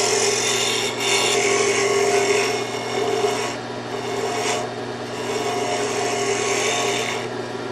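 A wooden tulip wood pen blank is turned on a lathe, its back side being cut, producing a continuous scraping, rasping hiss over a steady motor hum, rising and easing in waves.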